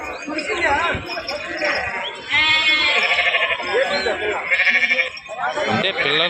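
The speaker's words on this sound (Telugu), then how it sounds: "గొర్రెలు చూడండి" Sheep bleat loudly and repeatedly nearby at a livestock market in Gudur, several overlapping calls from a flock, with people talking among them.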